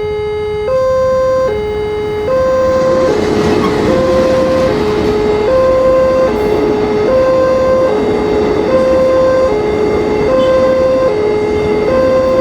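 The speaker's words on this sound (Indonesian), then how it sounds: "Ini dia keretanya." A KRL electric commuter train passes a level crossing in Probolinggo. A loud two-tone warning alternates steadily over a continuous rumble throughout.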